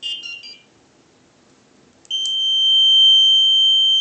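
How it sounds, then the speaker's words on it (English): A very loud Arduino-driven piezo buzzer with potentiometers sounds a few quick shrill beeps, falls silent, then holds a piercing steady tone for about two seconds. "It is a very loud piezo buzzer with a couple of potentiometers."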